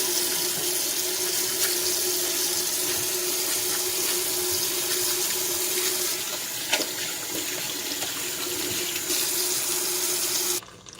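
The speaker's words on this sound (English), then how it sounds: "I'm going to wash my hands first." Tap water runs steadily into a kitchen sink while hands are washed beneath it, with a constant rushing stream and faint splashing and rubbing, stopping abruptly at the end.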